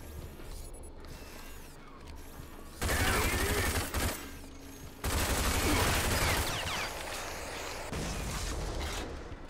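Sustained automatic gunfire in the shooter game RAGE, loud dense bursts starting partway through and continuing with brief gaps, over a low rumbling background.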